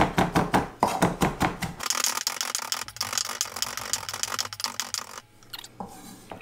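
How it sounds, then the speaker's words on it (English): Quick, rhythmic knife chops finely chopping mint on a cutting board, a steady run of sharp taps, fairly close and loud, with no talking. "I'm going to finely chop some mint"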